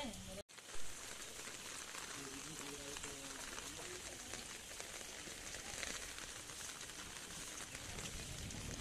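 Dense rain hisses steadily across the whole stretch, with a brief knock near the start and faint talk blending into the downpour.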